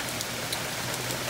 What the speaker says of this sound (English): this is what everything looks like in the rain